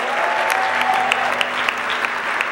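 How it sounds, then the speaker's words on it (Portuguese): A church congregation at a Sunday family service bursts into applause, a dense, sustained wash of many hands clapping with a few scattered sharper claps. "Quem pode aplaudir Jesus pelo lançamento?"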